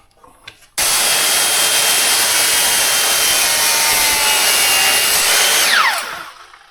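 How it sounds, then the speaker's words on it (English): A power saw cuts through the end of a wooden post, a loud steady whine starting abruptly and running for about five seconds before tapering off as the cut finishes, alone with no talk. "I'm gonna go ahead and cut the end of that off."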